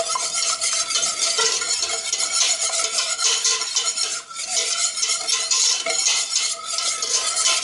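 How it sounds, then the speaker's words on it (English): Spices for stuffed peppers being whisked together in a bowl, a steady, continuous scraping and clinking of the whisk against the bowl throughout, close and fairly loud, with no talking. "So we whisk all of this stuff together to mix up all the different spices"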